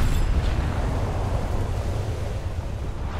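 A torpedo hits a warship in World of Warships, producing a loud, sustained roaring rumble that fills the whole moment without letup, heard alone with no voices.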